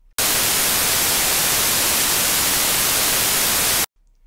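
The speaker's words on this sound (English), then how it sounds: "I'll just run the noise, still on the white noise now, through this FFT." A white noise test signal used for mix levelling, a loud, flat, constant hiss that starts abruptly and stops just as suddenly after a few seconds, with near silence on either side.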